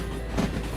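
A train rolling past in the Derail Valley railway simulator game, a brief, steady low rumble of rolling wagons with a faint clack of wheels, heard alone at moderate level.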